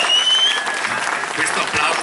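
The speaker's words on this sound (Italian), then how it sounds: "Questo applauso credo che sia il miglior ringraziamento per Elli e per Giovanni." An audience at a Partito Democratico Festa dell'Unità rally in Quinzano, Verona applauds loudly, a dense, continuous burst of clapping from close by that fills the whole moment without a break.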